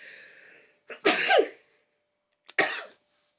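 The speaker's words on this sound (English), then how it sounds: "I'm gonna hang on a minute, I just need to sneeze." Two sneezes from a woman with hay fever, a sharp loud burst after a soft intake of breath, then a shorter second sneeze a moment later, in a quiet indoor room.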